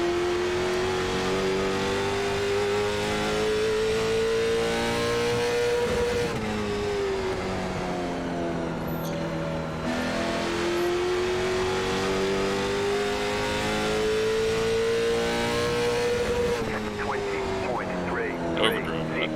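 A race car engine in the iRacing sim on the Stafford oval during a CARS Tour race: a steady, loud droning whine that rises and falls in pitch through each lap, with a voice talking over it.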